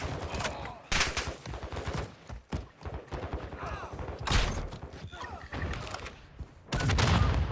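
Rapid bursts of automatic gunfire and single shots in Call of Duty DMZ, loud and close, clustered in several volleys with brief gaps, with voices calling out between them.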